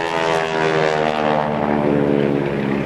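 Stearman biplane's radial engine and propeller droning steadily and loudly at close range, a continuous rich harmonic roar at an airshow, with no talk.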